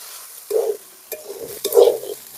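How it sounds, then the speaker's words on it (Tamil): Food being sautéed and stirred in a pan for village-style coconut rice, with a few short scraping strokes under a soft sizzle, close and fairly quiet. "நல்லா வதக்கணும்"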